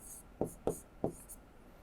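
Pen strokes on paper while an expression is written out by hand: three short, quiet scratching marks in a slow irregular rhythm, close by, with a soft hiss in between.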